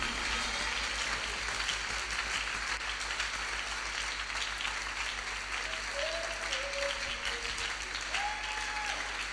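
A congregation gives a clap offering during a prayer service, with sustained, dense applause from a crowd that carries steadily throughout, lightly mixed with distant voices.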